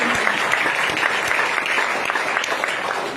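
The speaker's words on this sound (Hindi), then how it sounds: "एक जोरदार ताली फिर से हमारे मम्मी पापा।" A crowd at a gathering gives a hearty round of applause for the speaker's parents, with loud, continuous clapping and a few sharper individual claps standing out, without any talking.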